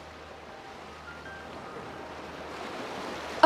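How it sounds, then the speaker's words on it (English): Ocean surf rolls as a steady, broad wash of waves that builds slightly louder toward the end, heard from a distance and alone without any voices. "The waves are so big."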